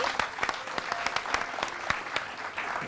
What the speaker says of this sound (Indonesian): tepuk tangan dulu untuk Ibu Mimi